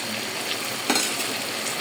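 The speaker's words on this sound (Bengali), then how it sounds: "এই পর্যায়ে আমি সামান্য পানি দিয়ে নিচ্ছি।" Hilsa fries in oil in a pan for ilish pulao as a little water is added, giving a steady close sizzle with a brief sharper hiss partway through. No one speaks.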